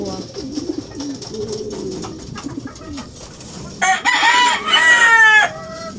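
Chickens with newly hatched chicks and a hen sitting on eggs, heard up close in hot weather: soft clucks and peeping, then a loud rooster crow breaking out near the end.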